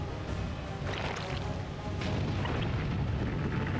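City buildings crumbling under attack in the video game Godzilla: Unleashed, a constant heavy rumbling roar with crashing impacts that grows slightly louder midway.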